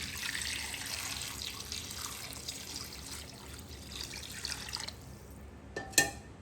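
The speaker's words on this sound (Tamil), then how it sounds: "இதுக்கு அளவாக தண்ணியை விடுவோம்" Water pours from a tap into a cooking pot of cassava for a traditional village-style dish, a steady splashing flow for about five seconds, then a few clinks and drips after it stops.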